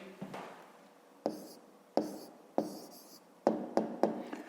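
A pen writing an answer by hand on paper during a fifth-grade maths exercise: several short scratchy strokes with small taps, close and quiet, no talking.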